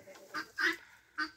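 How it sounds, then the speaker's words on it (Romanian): A bearded bantam hen gives three short, nasal, honking clucks at close range, the middle one the loudest. "Achiziția este o găinușă pitică bărboasă."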